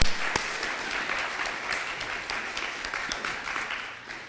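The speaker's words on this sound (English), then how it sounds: "So I want to give a hand of applause to our club members." An audience at a celebration of creative works applauds club members with dense, steady clapping that fades slightly toward the end.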